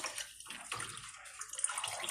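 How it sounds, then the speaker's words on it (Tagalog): Water is poured over fish in a basin to wash it, a close, uneven splashing and trickling that rises and falls in short bursts. "So buhos lang po natin dito yung tubig."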